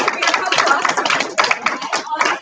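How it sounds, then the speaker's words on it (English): A meeting audience breaks into dense, steady applause, many hands clapping at once in a lively, continuous patter with no voices on top. "would you stand up for a round of applause?"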